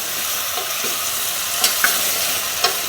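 Masala-coated bottle gourd and potato pieces sauté in hot ghee with a constant close sizzle, punctuated by a few sharp scrapes and clinks of a spoon stirring the pan.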